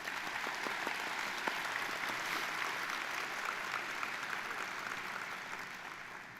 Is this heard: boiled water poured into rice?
no